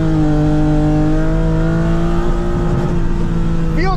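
A BMW E30 drift car engine runs close by in a loud, sustained rev, holding a strong steady tone for several seconds before climbing sharply at the end.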